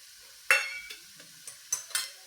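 Dry fruits being stirred into a grainy gram flour sheera with ghee in a pan, heard as a few soft scraping, sizzling stirs spaced irregularly, close and fairly quiet, with no talking.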